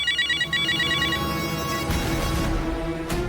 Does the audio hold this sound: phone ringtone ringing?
yes